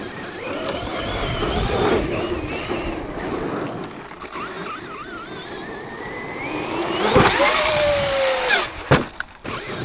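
A Traxxas X-Maxx 8S RC car fitted with a 19-tooth Tekno pinion, GTX springs and 50wt shock oil whines as it accelerates, rising to a louder high motor squeal late on, with brief clatters afterward.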